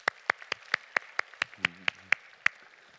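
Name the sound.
church congregation clapping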